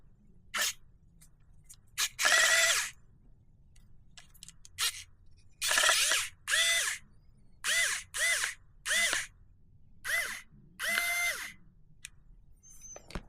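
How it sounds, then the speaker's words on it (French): A small electric screwdriver takes apart a 3D printing pen in about ten short, whining bursts of motor whir separated by silent pauses, close and clear, with no voices. "grâce à ce petit tournevis électrique, je vais le démonter."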